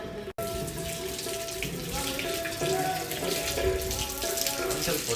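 Tap water runs steadily into a sink as hands are washed at a dargah during Ramadan, a continuous splashing rush that stays close and fairly loud, with a few voices murmuring faintly in the background.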